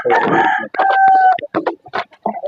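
A rooster crows loudly and close by, a long stretched call, followed by several shorter clucks and squawks from chickens.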